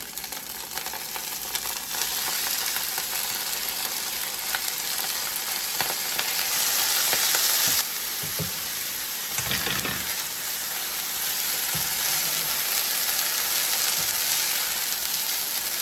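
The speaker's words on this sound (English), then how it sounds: "It's gonna sizzle and pop and make noise because of the moisture" Rice sizzles steadily in a hot pan, a continuous loud hiss with occasional soft knocks and scrapes as it is stirred.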